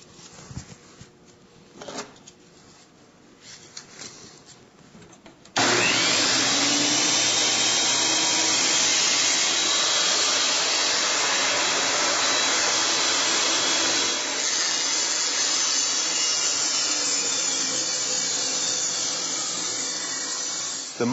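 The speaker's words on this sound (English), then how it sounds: "plug in the tool, get the safety glasses on, and make those rip cuts." A Delta table saw starts up with a sudden loud roar after a few quiet handling noises, then holds a steady, broadband whine through rip cuts, dipping slightly in loudness toward the end.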